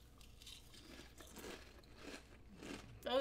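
Close, crisp crunching of Flavor Blasted Cheez-It crackers being chewed, several bites in a steady rhythm that build toward a louder crackle at the end, with no talking.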